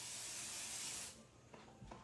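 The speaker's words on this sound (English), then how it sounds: "I'm going to give this just another shot of my Pixie spray" A can of Pixie spray adhesive gives one loud, steady hiss lasting about a second, followed by a few faint clicks and handling taps.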